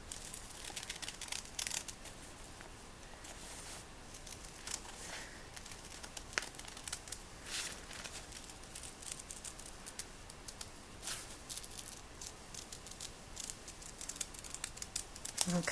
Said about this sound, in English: we are going to cut on the new dotted line